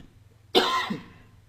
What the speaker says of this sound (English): Excuse me if I coughed in your ear there